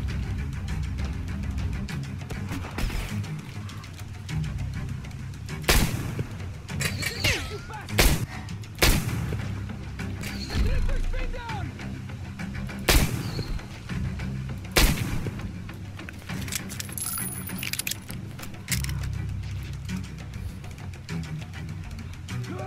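Enemy gunfire in the video game Metro Exodus, loud booming shots and heavy thuds firing irregularly over a rumbling battle backdrop, close and continuous throughout.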